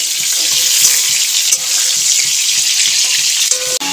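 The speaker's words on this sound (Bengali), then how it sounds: "আমি মাছ ভাজাটা বসিয়ে দিয়েছি" Fish fries in a pan with a dense, loud, continuous sizzle, occasional crackles and small pops rising over a steady hiss, heard close up with no talking.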